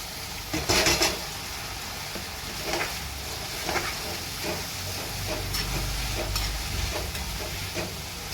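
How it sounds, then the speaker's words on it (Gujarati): Vaseti greens with salt sizzle in a hot pan, a continuous frying hiss broken by sharp stirring clatters and scrapes, loud and close with no talking. "હવે આપણે આ ભાજી એડ કરી દઈશું"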